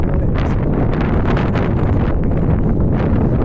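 Loud, rumbling wind buffeting a microphone downtown, a constant low roar with gusty swells and no other sounds coming through.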